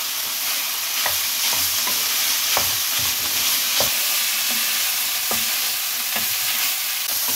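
Chopped capsicum, carrot and onion stir-fried in a pan, a loud continuous sizzle close by, punctuated by regular scraping strokes of a spatula through the vegetables.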